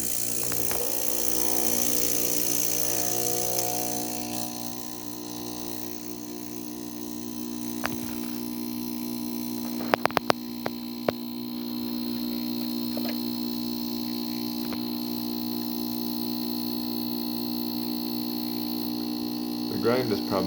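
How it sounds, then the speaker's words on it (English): A Gaggia Classic espresso machine with a newly replaced gasket pulls a shot, its pump giving a steady, loud drone throughout, broken by a few brief clicks near the middle. "Today we're testing this Gaggia classic espresso machine"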